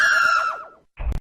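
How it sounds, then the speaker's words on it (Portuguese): A single loud, high, wavering scream that falls in pitch and fades, heard in a city within a Majora's Mask story, followed by a short burst of low noise. "Ao caminhar até o centro da cidade, ele ouve um grito."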